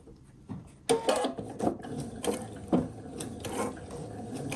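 A sewing machine stitching a quilt binding, producing a mechanical whir with clattering bursts as it runs, starts and backs up, close and fairly loud, with no voices.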